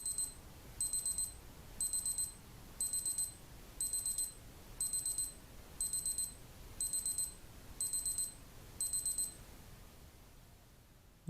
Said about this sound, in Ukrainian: Ось такий сигнал спрацювання таймеру.